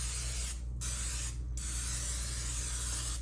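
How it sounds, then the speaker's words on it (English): Pam cooking spray hisses from an aerosol can as it coats the bottom of a casserole dish, a close, steady spray broken by two brief pauses. "we're going to coat the bottom with some Pam cooking spray"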